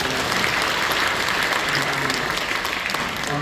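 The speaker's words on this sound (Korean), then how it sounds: "우리 박수로 축하해주시겠습니다" Steady, dense applause fills a Korean church service in Incheon, continuous and fairly loud for the whole stretch with no break.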